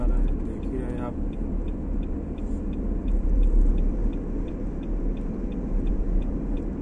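A car drives through the streets of Riyadh, its steady low road rumble and engine drone filling the cabin with a faint regular ticking like a turn signal, while someone talks over it.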